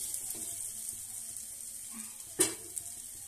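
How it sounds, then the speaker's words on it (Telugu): Ginger garlic paste and green chilli paste frying in oil for a Bhimavaram-style chicken pulao, a soft steady sizzle close by with one sharp clatter of a spoon. "అలా ఫ్రై అయిపోయాక అల్లం వెల్లుల్లి పేస్ట్ పచ్చిమిర్చి పేస్ట్ మంచిగా ఫ్రై అయిపోవాలి"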